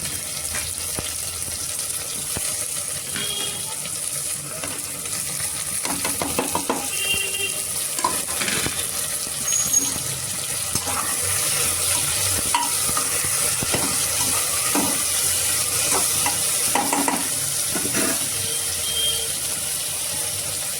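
Tomato and capsicum stir-frying in a pan, a steady bright sizzle running throughout with intermittent scraping and stirring knocks from a utensil, close and continuous without speech.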